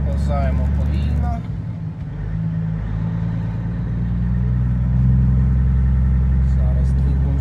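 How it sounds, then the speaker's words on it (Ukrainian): A car engine, still warming up, hums steadily at low pitch while the vehicle drives slowly, the rumble swelling slightly later on, with a voice talking over it at times. "Зараз двигун вже нагріється остаточно."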